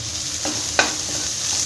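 Chopped coriander leaf curry stirred in a pan, a steady low sizzle with one sharp scrape of the spoon midway and a softer stir before it.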